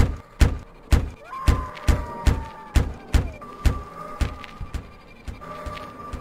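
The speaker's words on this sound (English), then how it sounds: "Is that me banging on the door" Banging on a door in the Ghost of Tomorrow video game: a steady series of about a dozen loud, hollow thuds at a regular pace, with faint tonal sounds lingering between the knocks.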